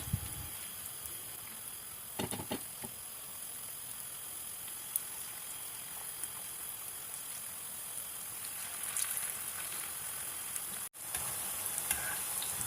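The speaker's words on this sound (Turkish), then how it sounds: "arkalı önlü kızartıyorum." Steady sizzling of zucchini fritters frying in oil in a pan, a continuous crackle with a few louder spits, close up and without talk.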